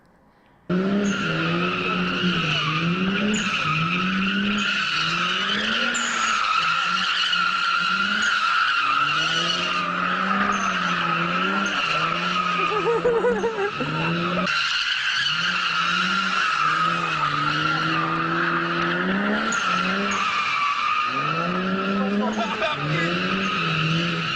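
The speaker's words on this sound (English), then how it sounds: "using the power of drift to get away from cops is not just something you see in the movies anymore" A car drifts with its engine revving hard and tires skidding, loud and continuous for the whole stretch, the engine pitch sweeping up and down with each slide.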